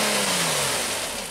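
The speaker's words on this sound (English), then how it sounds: "Yeah, rev it up." A Nissan Maxima engine revs loudly and close by, its pitch climbing then easing off, with no talk over it.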